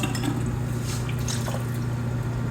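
Water trickles and splashes into a pot of rice, a continuous wet pouring with small drips over a low steady hum, close by.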